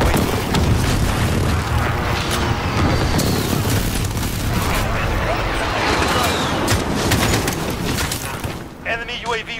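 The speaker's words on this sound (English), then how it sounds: "Allied precision airstrike in." A precision airstrike in a military shooter game sets off a dense barrage of loud, rumbling explosions and crackling blasts that runs nearly without a break, with game voices calling out over the din.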